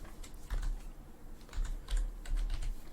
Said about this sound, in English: So after writing a colon, you can write Alice.